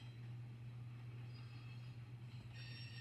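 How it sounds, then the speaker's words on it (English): A three-locomotive Norfolk Southern freight train at Fostoria, Ohio, gives a faint, steady low rumble while thin, high wheel screeching drifts through it and grows sharper near the end, heard from a distance. "the train is still screeching quite a bit, but it's kind of quiet now."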